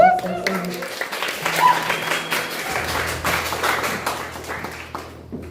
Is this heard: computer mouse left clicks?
no